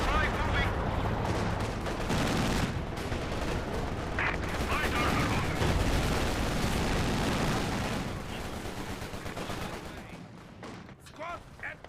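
Gunfire from a Company of Heroes 2 battle, with dense sustained shooting and booming impacts layered throughout, loud and continuous, thinning out near the end with scattered shots.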